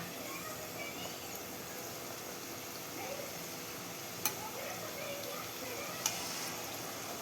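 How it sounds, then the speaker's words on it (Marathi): Puris frying in hot oil as oil is splashed over them and they are flipped, giving a steady soft sizzle with a couple of sharp clicks from the utensil. "त्याच्यावरती तेल आपण थोडंसं उडवूया आणि थोड्याशा आता पलटी करूया"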